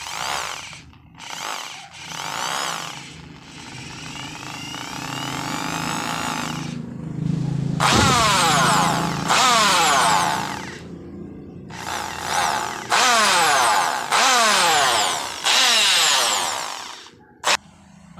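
A Barina electric hammer drill runs without grease in repeated loud bursts, its motor whining up and down in pitch with a rough, rattling hammer-like edge. There are brief pauses between the runs and a sharp knock near the end.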